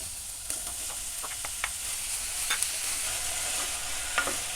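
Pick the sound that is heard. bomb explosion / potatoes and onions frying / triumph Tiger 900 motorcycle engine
potatoes and onions frying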